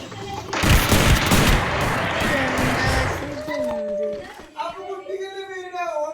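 Gunfire from a SCAR rifle in a video game, a dense loud burst of rapid shots early on that gives way to game effects and tonal sounds, with a voice speaking over it.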